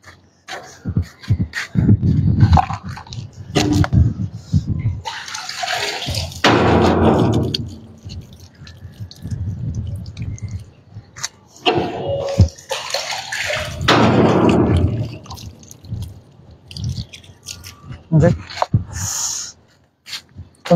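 Hands washed under running water in a garden, with bursts of splashing and rushing flow rising and falling close by, broken by brief pauses and short breaths.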